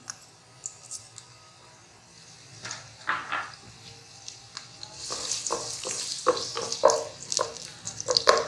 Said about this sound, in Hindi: इसमें हमने ये प्याज ऐड करनी है, फ्लेम थोड़ा सा ज़्यादा कर देना है।